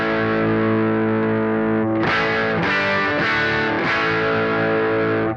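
Electric guitar on the neck humbucker through a Tone Sculptor EQ pedal with a muddy, dull, distorted tone: one long sustained chord, then several hard strummed chords, loud and close with no talk.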